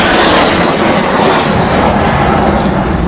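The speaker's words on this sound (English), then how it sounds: "it's fantastic to see the MiG using the full height available today" A Polish Air Force MiG-29 jet fighter roars continuously and loudly during a flying display, a dense, unbroken wash of engine noise.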